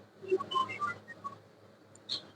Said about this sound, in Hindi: मैं इसमें तकरीबन 2 से 3 सीटी लगाऊंगी कीमे को गलाने के लिए